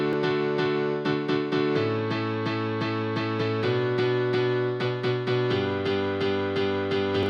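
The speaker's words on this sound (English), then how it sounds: "different piano sounds. So this is what I've created for" Bright, dense piano chords for a progressive house drop pulse in steady rhythmic stabs, the harmony shifting every couple of seconds over a full low end, loud and energetic.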